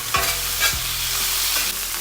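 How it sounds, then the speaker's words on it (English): Onions sizzling in oil for a cheesesteak are pushed around a hot pan, a steady close sizzle broken by a few sharp scraping sweeps of a spatula, with no talk. "Make sure to move them around and coat everything in oil."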